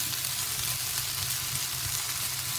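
Potato chunks browning as they fry in a pan for a vegan breakfast scramble, a loud, dense, continuous crackling sizzle that holds steady throughout, with no voices.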